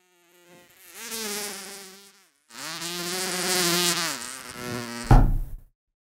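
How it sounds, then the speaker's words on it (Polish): A fly buzzes loudly and close by in two passes, its drone rising and falling in pitch, then ends in a short rough burst. "Jakby cisza, tylko mucha przeleciała."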